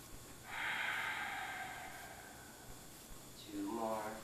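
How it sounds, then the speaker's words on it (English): Slow, deep breathing during a seated chair yoga session: a long, airy inhale close to the mic, a pause, then a second breath rising at the end, with no talking. "Three more breath."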